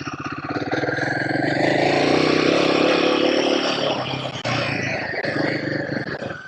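A Royal Enfield Himalayan 452 motorcycle rolls along in low first gear without the clutch. Its close, loud, steady engine drone holds fairly even, with a brief dip and slight shifts in pitch.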